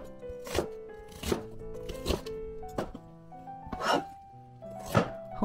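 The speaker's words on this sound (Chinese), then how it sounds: "洋葱切块" A knife chopping onion into chunks on a board for a fried lamb chop dish: about seven sharp, separate thunks at an uneven, unhurried pace, close and fairly quiet, with faint background music.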